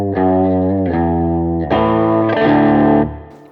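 Electric guitar with distortion and chorus effects strums a short sequence of sustained chords, roughly four changes in three and a half seconds, loud and up close before ringing out.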